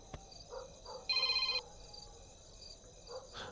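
A telephone rings once in a short electronic trill burst in an indoor scene from a Bhojpuri film, with faint background tones and clicks around it and no speech.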